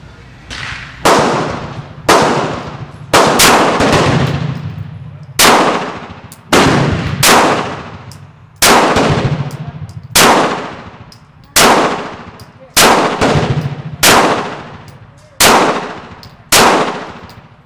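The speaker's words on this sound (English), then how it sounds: "here we are with the Glock 19 Gen 4 with the new beaver tail right here. We got some cheap ass Tula ammo in it" A Glock 19 Gen 4 pistol with a beavertail grip fires cheap Russian Tula ammunition outdoors, about a dozen loud, sharp shots at a slow, uneven pace, each with a ringing decay.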